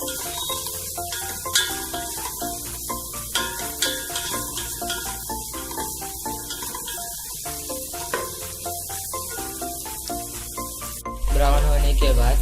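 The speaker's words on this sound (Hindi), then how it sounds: "ऑनियंस को थोड़ा ब्राउन होने तक पकाएं" Onions frying in a pan until brown for Hyderabadi bagara rice, a steady close sizzle with scattered stirring clatters throughout, joined near the end by a louder burst of hissing.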